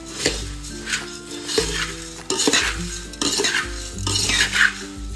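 Kolhapuri bhadang, spicy puffed rice, being stirred and tossed in a bowl, with repeated scraping and rustling strokes that come in uneven bursts, fairly close and with no talking.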